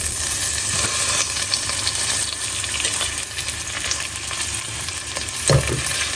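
Cut onions for aloo bhujia fry in oil in a pan with a steady, dense sizzle that runs loud and unbroken throughout, with faint stirring underneath and no talking.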